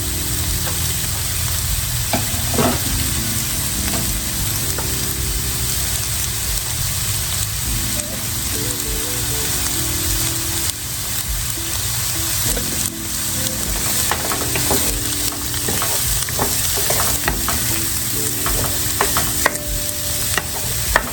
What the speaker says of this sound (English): And it's like the mushrooms are sucking up all the oil.